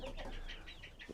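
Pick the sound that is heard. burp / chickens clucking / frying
chickens clucking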